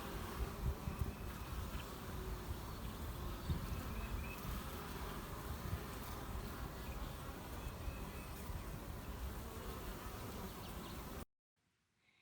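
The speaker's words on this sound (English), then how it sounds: "The bee activity at the front of this hive is normal." Honeybees buzz at the front of a hive in a dense, steady drone from many insects, moderately loud and continuous with no talk, cutting off near the end.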